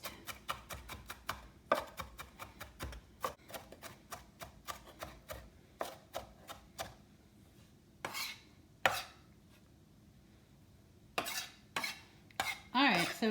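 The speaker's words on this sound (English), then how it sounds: "So, I'm just going to get everything in a pile and get everything fine minced." A knife chops vegetables into a fine mince for meatballs in red sauce, a close, loud run of rapid rhythmic blade taps on a cutting board, with short pauses and a few scraping sweeps as the pile is gathered.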